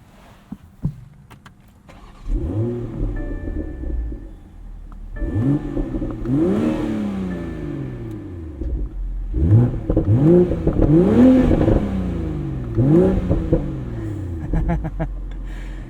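A 2023 BMW Z4 M40i roadster with its B58 engine starts, then pulls away through several rising gear-by-gear revs and shifts, loud and close with the top down, with brief clicks beforehand.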